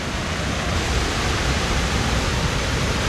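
A wilderness waterfall roars in a steady, dense wash of rushing water, loud and unchanging throughout with no voices.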